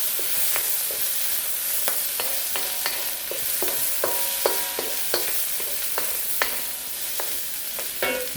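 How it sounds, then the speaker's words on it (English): Chinese sausage, shrimp and shiitake mushrooms stir fry for sticky rice, a constant sizzle under repeated sharp clacks of a spatula against the pan, close up and with no talking. "the combination of the shrimp, the shiitake mushrooms, and you always stir fry"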